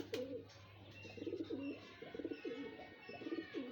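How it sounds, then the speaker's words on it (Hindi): Domestic pigeons cooing close by, a series of soft, low, rolling coos repeated steadily over a faint background hum, with no talking. "और बड़े अच्छे कबूतर है यार"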